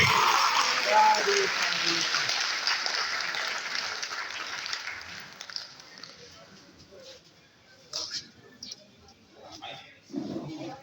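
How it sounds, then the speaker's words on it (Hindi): Audience applause in a meeting hall during the second great council of the Saman Sangh at Bharhut, Satna: loud, dense clapping that slowly fades over several seconds, followed by scattered sounds and a few words of talk. "एक बार फिर से बहुत सारी तालियां बजा के जोरदार उत्साह प्रकट करेंगे"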